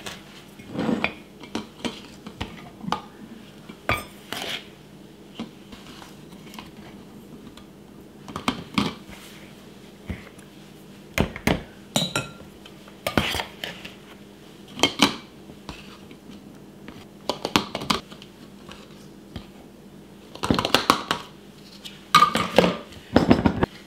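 Homemade dry pancake mix poured and shaken into a jar, with scattered clinks and rustling taps of glass and utensils in a quiet kitchen, bursts coming irregularly over a low steady hum.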